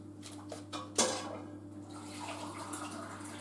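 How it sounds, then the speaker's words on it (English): Water is added to thick gravy in a cooking pot, a soft splash and pour with clinks of metal, set against a steady low kitchen hum, fairly faint. "I'm going to add some more water to it"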